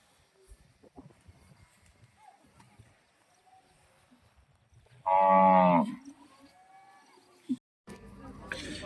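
A single loud, close cow moo at the Bagalur cattle market near Hosur, Tamil Nadu, where native cattle and draught bullocks are traded, rising out of quiet market murmur and faint talk and lasting about a second.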